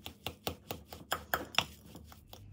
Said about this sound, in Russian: И продолжаем опять перемешивать все это.